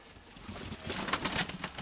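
Soft, low pigeon coos come from close by, with faint rustling and a flutter of wings.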